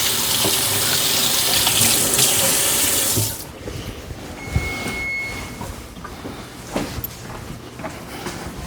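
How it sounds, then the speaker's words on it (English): A kitchen tap runs hard as hands are rinsed during Thanksgiving cooking, a loud steady splash that cuts off after a few seconds, followed by quieter clatter and handling sounds. "let me rinse my hands"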